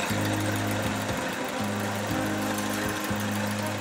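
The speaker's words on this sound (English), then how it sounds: "You can see the engine is running rough and there is nothing there." Car engine idling rough with one ignition coil unplugged, a close, steady hum broken by irregular stumbles and dropouts roughly every half second, with no talk.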